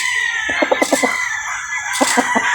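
Chickens cluck on a poultry farm in close, rapid clustered bursts, with a rooster crowing and other birds calling in the background.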